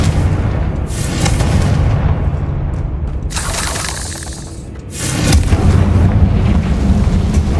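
A Confringo blasting spell explodes in the Hogwarts Legacy video game, giving a loud, sustained booming blast that dips briefly and then surges again with a second heavy burst.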